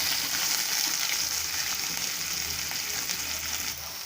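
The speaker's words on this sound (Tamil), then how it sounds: "இதோட நறுக்கி வச்சுருக்க வெங்காயம் சேர்த்துடலாம்." Chopped onions sizzle steadily in hot oil for a village-style chilli chicken, a loud, continuous crackling fry with no talking.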